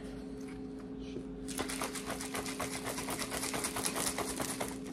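A shaker bottle holding about eight ounces of milk and protein is shaken hard, a rapid rattling rhythm that starts suddenly after a quiet moment and continues steadily, close up.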